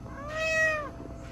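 A house cat gives a single clear, drawn-out meow close by indoors, rising and falling over about half a second, with no talking.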